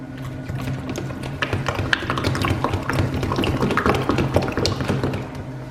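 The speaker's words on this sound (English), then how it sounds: "you're going to want to stir it up really good to get that all back incorporated" Cream-top whole milk yogurt being stirred steadily, a busy run of soft clicks, taps and scraping knocks from the spoon against the container, close and continuous with no talk.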